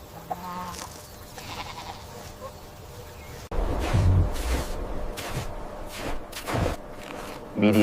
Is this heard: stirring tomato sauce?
no